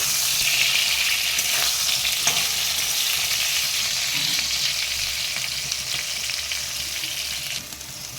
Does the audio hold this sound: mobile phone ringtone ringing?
no